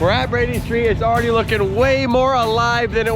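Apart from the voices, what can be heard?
No everyday noises stand out.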